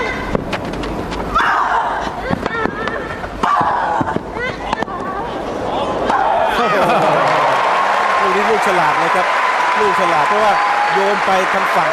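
Crowd at a Wimbledon women's tennis match breaking into loud, sustained applause and cheering, with bursts of claps early on swelling into a dense, continuous roar, a commentator talking over it.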